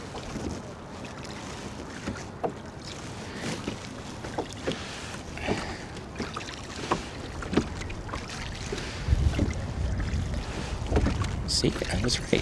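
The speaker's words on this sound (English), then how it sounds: "Paddling upstream is harder." Oars dip and pull at a steady rhythm as a rowboat works upstream on the Gorge Inlet near the Tillicum Reversing Falls, with close splashes and knocks over wind buffeting the microphone and moving water swelling louder toward the end.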